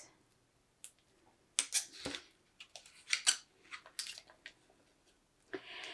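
Transfer tape cut out with scissors for a cutting-board stencil, heard as a few close, quiet snips and crinkles separated by pauses, with no one speaking.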